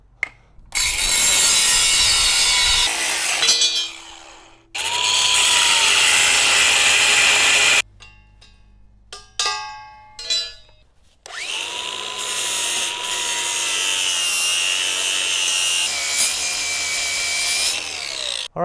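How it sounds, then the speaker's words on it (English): Angle grinder with a cutoff wheel cutting off a hitch bracket during a rear bumper install on a 2015 or later Ford Transit, giving loud sustained whining cuts broken by pauses with clanks and rattles, close and without talk. "the grinder with a cutoff wheel"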